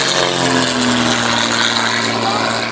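Lavochkin La-5FN propeller fighter aircraft flying overhead, a loud sustained droning piston engine with steady harmonic tone, continuous and close.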